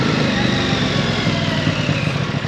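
An Aprilia Tuono 660 motorcycle engine runs steadily throughout, a continuous close rumble with a rough, throaty edge.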